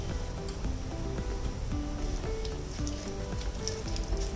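Whole spices with a cinnamon stick frying in hot oil, a dense and steady crackling sizzle close by with a faint ticking pattern throughout and no talking.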